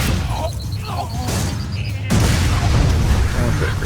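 A grenade goes off in the shooter game Borderlands 2, a loud booming blast that swells partway through over a steady din of game noise and effects.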